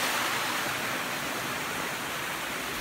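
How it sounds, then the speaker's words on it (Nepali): Small waterfalls splashing into a park pond in Japan, a steady, even rush of falling water heard close up and alone, with no voices. "झरनाहरू"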